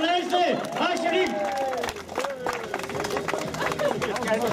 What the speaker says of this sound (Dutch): Applaus voor Senne Leijzen.